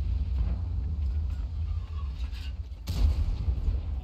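Tank cannon shots from a World of Tanks-style game, HEAT rounds fired at an E25 by a BZ-166: a steady low engine rumble with a sharp, loud shot boom near the three-second mark.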